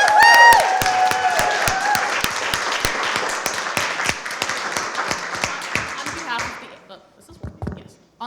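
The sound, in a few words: audience applause at symposium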